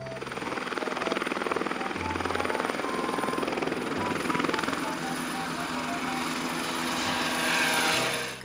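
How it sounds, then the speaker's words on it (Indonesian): A helicopter sounds out in a loud, steady rotor thrum with a rapid beating pulse, continuing for several seconds close by, with no voices over it. "Wow, lihat teman-teman, di sini ada helikopter."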